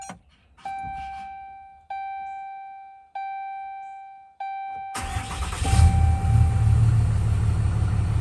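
A fourth-generation Ram with a Cummins 6.7 diesel and upgraded intake and intercooler boost tubes: four evenly spaced dash chimes ring, then the engine cranks, fires and settles into a loud, steady, close-up rumbling idle.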